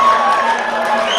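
A loud, brief burst of crowd cheering rises at a 2019 rugby grand final between the Tupapa Panthers and Ngatangiia Sea Eagles, many voices roaring together without pause.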